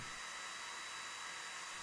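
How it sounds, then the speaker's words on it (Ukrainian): A hair dryer blows steadily at close range, heating metal, a constant airy whoosh with no pauses or voices. "Підігріваємо феном ще раз,"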